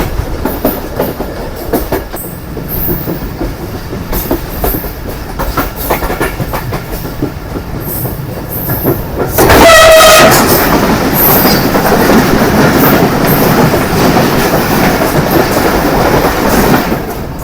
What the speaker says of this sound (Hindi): ये है 152 डाउन शाह लतीफ़ एक्सप्रेस, जो आज दोपहर 3 बजे मीरपुर खास से चली थी